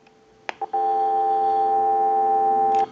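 A few short clicks followed by a long, steady, loud telephone redial dialing tone that holds evenly before cutting off, from a Telemania Duck novelty telephone.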